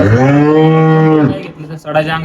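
A cow lets out one loud, drawn-out moo at close range, followed by a brief shorter low call.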